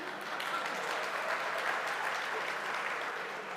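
Audience applause at a live debate hall event, dense steady clapping from a large crowd, moderately distant and even throughout.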